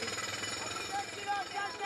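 Steady rapid pounding of a jackhammer, loud and continuous throughout, with faint voices in the background.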